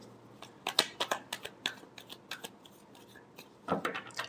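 Tarot cards being shuffled by hand, a run of quick, close papery riffles and flicks in uneven bursts, fairly quiet, with a denser flurry near the end.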